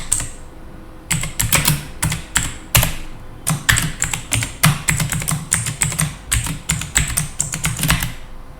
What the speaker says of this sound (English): And type in my password.